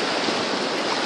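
Water in a stream rushes steadily and fairly loudly, a continuous broadband gurgle and wash with no voices over it.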